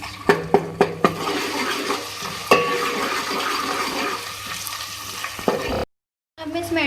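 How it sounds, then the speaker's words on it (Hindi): Ginger garlic paste hits light golden fried onions in a pan for hotel-style aloo ka salan, giving a steady close sizzle with a few sharp spoon knocks at the start and scraping stirring throughout. "और अब मैं इसमें ऐड करूँगी अदरक लहसुन का पेस्ट, 1 खाने का चमचा। इसको भी मैं मिक्स करूँगी।"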